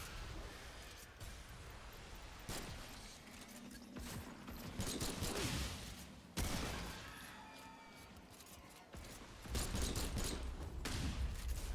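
Bursts of rapid gunfire from the co-op shooter Remnant 2, volleys of shots repeating across the whole stretch at a steady loud level, with heavier clusters of fire near the middle and end.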